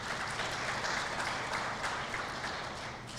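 An audience claps steadily at an event celebrating thirty years of an autism support approach, a dense wash of applause that holds level throughout with no voices.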